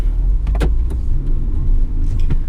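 An Aircross car engine rumbles low and steady from inside the vehicle as it drives off, with a few soft clicks and knocks as it moves.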